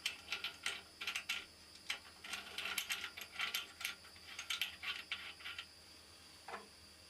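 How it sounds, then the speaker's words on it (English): A nut holding a 1/2 inch collet is fitted onto the spindle of a floating-head wood cutter, giving rapid metallic clicks and ratcheting ticks close by, fairly quiet, fading after a last scrape. "Fit the nut with a 1/2 inch collet onto the spindle."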